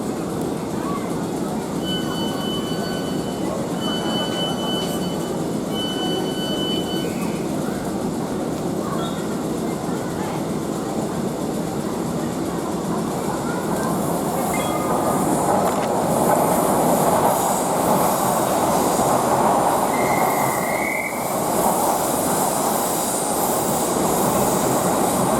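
A South Western Railway Class 455 electric train pulls away from Vauxhall station bound for Windsor & Eton Riverside, a steady close rumble of wheels on rail with a brief squeal and a rising roar as it gathers speed, no talk.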